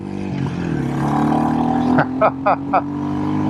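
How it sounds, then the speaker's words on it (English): A Royal Enfield Classic 350 motorcycle fitted with a full exhaust pipe, cam, FuelX and DNA filter runs at a loud, close rumble that shifts pitch, then gives three sharp blips of the throttle near the end. "this thing sounds like a race bike. I love it. I love that pipe."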